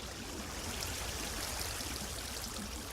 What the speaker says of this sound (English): the gate's open, water comes out